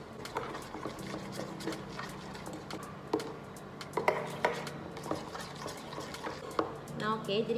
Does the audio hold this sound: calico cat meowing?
no